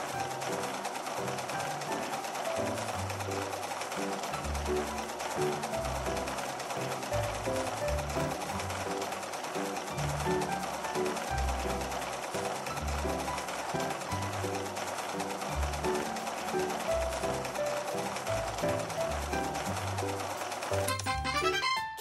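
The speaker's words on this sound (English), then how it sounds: "Now let's sew the pieces together." Sewing machine stitching clothes in a fashion dress-up video game, a steady game-sound whir with music-like tonal layers running continuously for the whole stretch, loud and even, with no talk.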